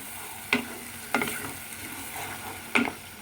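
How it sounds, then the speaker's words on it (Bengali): Masala with tomato puree frying in a pan, a soft sizzle broken by three sharp scraping knocks of a spoon against the pan, close and without talk. "সেই টমেটো পিউরিটা দিতে হবে এবার আরও কিছুক্ষণ মশলাটা হবে"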